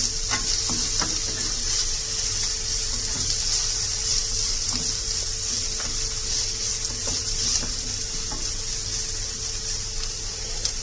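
Onions frying in oil with curry leaves for poha make a steady, even sizzle for about eleven seconds, with occasional light clicks from stirring and no talking.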